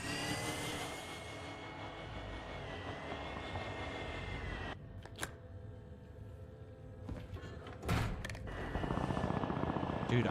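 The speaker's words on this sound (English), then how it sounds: "Look at the helicopters already fighting in prison." Game combat in Warzone: a steady aircraft engine drone of helicopters fighting over a prison, broken by a few sharp bursts of gunfire toward the end, fairly loud with no talking.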